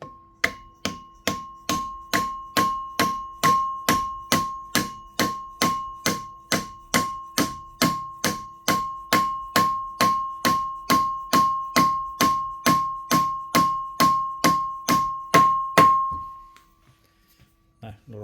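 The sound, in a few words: gently tapping a bearing onto a shaft of a drum sander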